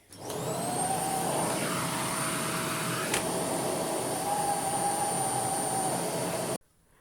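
Dyson Ball Animal 2 upright vacuum cleaner running on a hard floor, a steady loud whirring roar with a high motor whine that holds for about six seconds, then cuts off abruptly.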